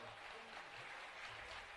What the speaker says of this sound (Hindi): महाराज जी का जोरदार तालियों से स्वागत।